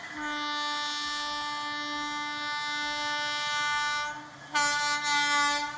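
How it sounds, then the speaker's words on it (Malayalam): A train passing on the second track at Kalamassery, its horn sounding a long, loud, sustained blast that breaks briefly and resumes, with rumbling rail noise underneath. "മറ്റൊരു ട്രെയിൻ ഇപ്പോൾ രണ്ടാമത്തെ ട്രാക്കിലൂടെ കടന്നു പോവുകയാണല്ലോ."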